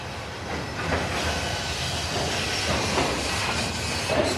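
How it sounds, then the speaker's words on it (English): A train speeding up rumbles past at a distance near a harbor at sunrise, a steady broadband roar with faint rhythmic clatter and hiss, no voices. "Oh, train speeding up again."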